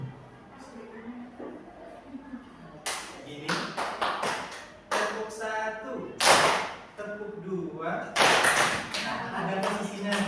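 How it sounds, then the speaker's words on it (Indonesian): Audience hands clapping in irregular bursts of sharp, loud taps at a school gathering, alternating with spoken instructions in between. "Kita sama-sama tepuk tangan."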